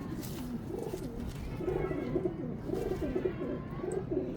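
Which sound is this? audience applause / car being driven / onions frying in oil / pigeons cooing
pigeons cooing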